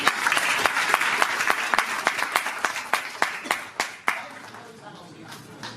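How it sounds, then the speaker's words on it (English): Audience applause at a festival announcement event, thick crowd clapping that breaks into a few separate loud claps and then fades out, with talking underneath. "a big round of applause"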